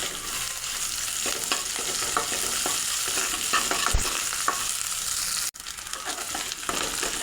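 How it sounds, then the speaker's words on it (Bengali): Onion with ginger-garlic paste fries in oil for chicken haleem while a spoon stirs it, giving a loud, continuous sizzle broken by repeated scraping strokes and a brief dip near the end. "এই যে দেখুন পেঁয়াজের সঙ্গে আদা রসুনটা ভালো করে ভেজে নিয়েছি।"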